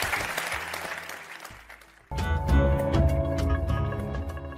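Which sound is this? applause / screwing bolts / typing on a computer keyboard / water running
applause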